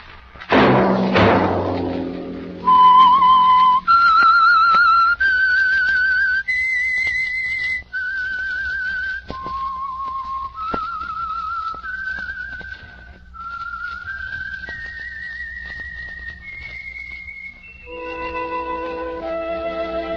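A lone whistler carries a slow, eerie melodic theme for a mystery radio drama, sustained notes gliding from phrase to phrase, opening on a soft thud and steady throughout with no voices.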